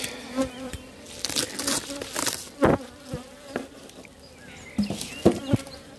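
Honeybees buzz around a beehive outdoors, a steady hum with scattered louder passes as individual bees fly close by, while faint voices talk in the background.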